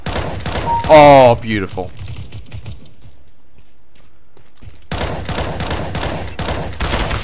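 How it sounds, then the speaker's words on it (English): Counter-Strike: Global Offensive gunfire crackles in dense rapid bursts, stops for a few seconds, then resumes in sharp repeated shots; a player briefly speaks over the start. "Oh, I was shooting at my own dude."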